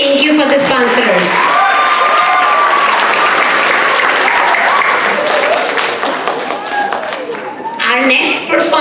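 An audience at a Diwali cultural fest in a high school breaks into loud, sustained applause. Dense clapping fills the hall for several seconds, with some cheering mixed in, before it briefly thins and then surges again.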